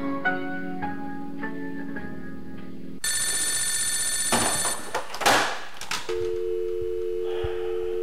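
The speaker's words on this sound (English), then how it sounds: "If only you would answer the damn phone!" A telephone rings on and on with no one picking up, its repeated electronic trills giving way to steady tonal beeps with no voices.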